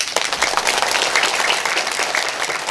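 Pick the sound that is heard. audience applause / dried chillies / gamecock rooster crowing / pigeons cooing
audience applause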